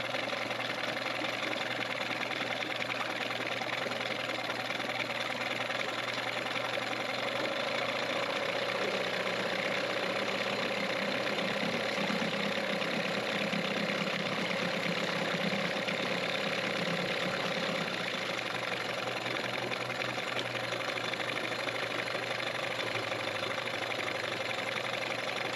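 A Johnson 15 outboard motor idles steadily in gear for a long stretch, a continuous low, even hum with a slight rhythmic knock and no talking.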